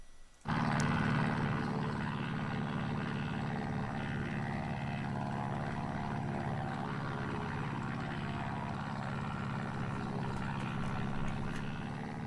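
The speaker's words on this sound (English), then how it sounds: "Aircraft is in the air over Laughlin Airport." A Christen Eagle II propeller aircraft in flight over Laughlin Airport in a flight simulator, its engine a loud, steady, unbroken drone with a low rumble throughout after a sudden start.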